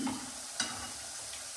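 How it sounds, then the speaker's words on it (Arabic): Potatoes fry in hot oil with a soft, steady hiss, close and fairly quiet, broken by two brief louder crackles. "انا وديت البطاطا على الزيت"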